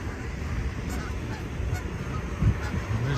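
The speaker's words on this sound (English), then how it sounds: "And there's geese." Geese honking outdoors on a cold winter day, a few calls rising faintly over steady wind and street noise, with one brief nearer honk.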